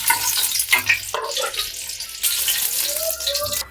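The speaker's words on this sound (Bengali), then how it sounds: "আমি ডিমগুলোকে নেড়ে চেড়ে হালকা করে ভেজে নিচ্ছি" Eggs fry gently in oil in a pan, giving a steady close sizzle and crackle with some stirring scrapes and splashy bursts, and no talk.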